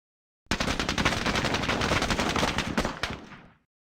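Sustained gunfire from the Squad Battles Eagles Strike v4.02 video game, a dense, loud burst of rapid automatic shots lasting about three seconds before cutting off, with no voices over it.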